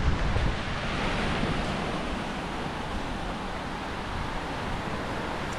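Indian Ocean surf breaks at the shore near Puducherry, a steady broad wash of waves with wind noise, continuous and fairly loud with no talk.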